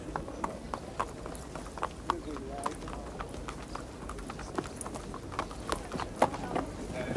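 Horses' hooves clip-clop at a race course, a run of sharp irregular knocks over a busy background with people talking throughout.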